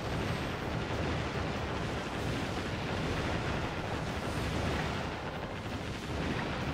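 Dense, continuous roar of high-angle naval guns pounding a lighthouse in Warship Gunner 2, a steady wall of rumbling blasts and booms with no pauses or voices.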